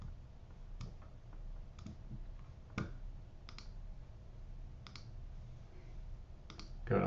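Sharp computer mouse clicks while setting up templates in Dreamweaver, a handful of isolated, close-miked taps spaced a second or so apart over a quiet room hum.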